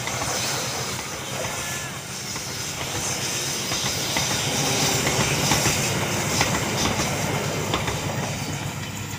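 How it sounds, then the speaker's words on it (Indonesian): The Lodaya passenger train in Indonesia rolls past close by, a steady loud rumble with rhythmic clattering of wheels over rail joints and a hissy wash of noise throughout. "itu dia kereta api Lodaya"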